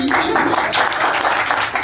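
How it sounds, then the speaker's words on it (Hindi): An audience at a storytelling and poetry event in a comedy club claps loudly and rapidly in close, dense bursts, with voices mixed into the clapping. "थोड़ा जल्दी जल्दी ताली बजा दो"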